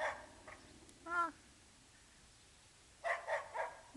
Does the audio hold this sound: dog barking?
yes